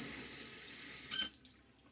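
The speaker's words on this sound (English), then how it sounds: "So now let me splash some water on my face." A sink tap runs close and loud during a wet shave as water is splashed onto the face, then cuts off abruptly and leaves a few faint drips and a quiet room.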